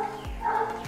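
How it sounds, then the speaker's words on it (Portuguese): A large dog barks, with two deep booming barks about half a second apart, close and loud, over a steady background drone. "Olha o cachorrão latindo."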